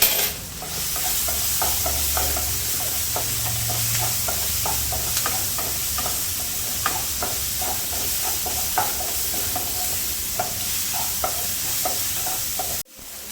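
Garam masala is stirred into a sautéed mixture in a home kitchen pan: a steady soft sizzle with repeated close scraping and tapping spoon strokes throughout, no voices.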